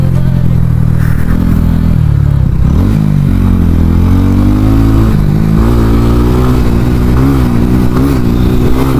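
A motorbike races alongside a car on a road, loud engine drone with rising and falling revs as both vehicles accelerate side by side, steady and close throughout.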